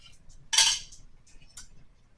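Plate and plastic container lids handled in a home kitchen while making a carnitas enchilada bake, giving one loud clattering clink followed by a few lighter ticks and taps, close and without talk.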